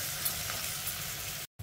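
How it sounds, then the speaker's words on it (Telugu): Brinjal pieces frying in a pan with salt and turmeric, a close, steady sizzle and crackle that runs evenly before cutting off abruptly near the end. "ఈ ఉప్పు పసుపు వేసిన తర్వాత ఒక 2 నిమిషాలు ఈ వంకాయ ముక్కల్ని ఫ్రై చేసుకోవాలి"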